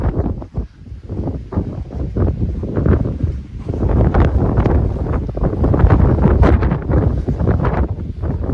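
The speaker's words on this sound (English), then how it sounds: "it's bloody windy up here" Strong, gusting wind roars and buffets the microphone continuously, loud and close, with no voices, high on the remote Old Dunstan road.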